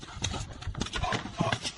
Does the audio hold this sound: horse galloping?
yes